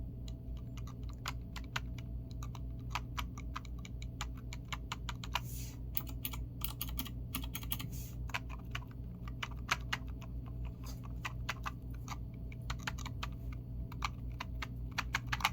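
Quiet computer keyboard typing goes on at a steady pace, soft rapid key clicks over a low steady hum, close and alone without talk.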